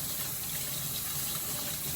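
Tap water runs steadily into a kitchen sink, a close, even, continuous gush as fresh herbs are rinsed for crab cakes.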